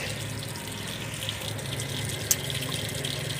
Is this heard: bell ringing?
no